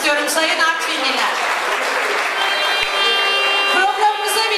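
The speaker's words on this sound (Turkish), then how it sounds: "sizden kocaman bir alkışla selamlamak istiyorum sayın Artvinliler." A crowd at an Artvin community celebration claps in a continuous rolling burst while a voice carries over the top, lively and fairly loud throughout.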